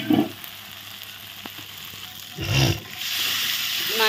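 Prawns drop into hot masala in a pan and sizzle, with a loud burst of frying partway through that settles into a steady hiss.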